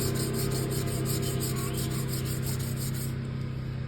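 A Stanley hand plane blade is rubbed back and forth on a sharpening stone in a quick, regular rasping rhythm, close and fairly quiet, stopping shortly before the end.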